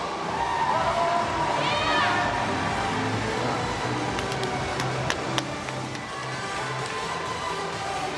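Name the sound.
crowd roaring at swimming world championships final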